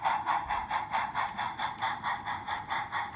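Model train locomotive running along a lit layout, giving a steady rhythmic clicking pulse of wheels over track joints, fairly close and moderately loud, with no talking.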